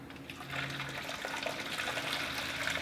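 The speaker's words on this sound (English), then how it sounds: "we're actually going to fill it with boiling water" Steady rushing splash of boiling water being poured into a jar, continuous and close, with no talking.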